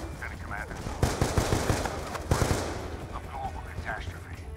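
Gunfire in Call of Duty Black Ops 2 during gameplay, with two rapid bursts of automatic shots over a noisy backdrop, and someone talking faintly underneath.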